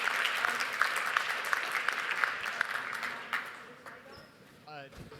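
Applause from a conference audience at a blockchain event, moderately loud at first and fading out over a few seconds, with voices and microphone handling noises coming in near the end.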